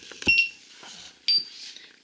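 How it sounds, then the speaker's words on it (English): A lab timer in a rheumatoid factor lab goes off with two short, bright electronic beeps about a second apart, near and fairly loud in a quiet room. "my timer is about to go off"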